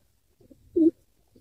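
A single short, low coo from a racing pigeon chick, close by, with faint soft rustling around it.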